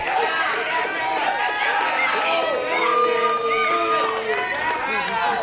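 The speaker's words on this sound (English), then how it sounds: "An electric crowd here at the Rec Room on a Thursday night to kick off the long weekend. More cheers, more beers, friends." A wrestling crowd at an indie show at the Rec Room on a Thursday night cheers and roars steadily throughout, a dense continuous wall of voices and shouts heard up close with no pauses.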